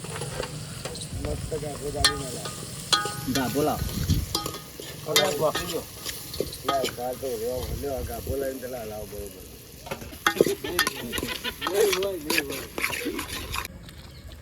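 Tempering spices fry in a hot pan with a continuous loud sizzle and crackle, stirred now and then, while a person talks steadily over the cooking.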